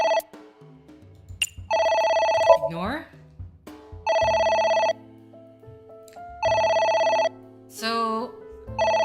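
A phone in the video game AI: The Somnium Files rings three times in loud, evenly spaced bursts of a buzzing electronic trill, with sliding game tones between the rings and a single short spoken word.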